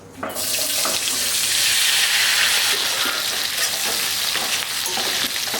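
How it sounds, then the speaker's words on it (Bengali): Onion dropped into leftover chicken-frying oil for chilli chicken, a sudden loud burst of close, hissing sizzle that stays strong and steady with crackling spatter. "বন্ধুরা ওই মাংস ভাজা তেলের মধ্যেই পেঁয়াজটা দিয়ে দেবো।"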